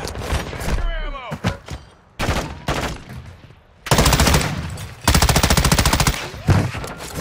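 Video game gunfire: bursts of rapid automatic shots, some long sustained volleys, loud and close, with excited talking between and over them.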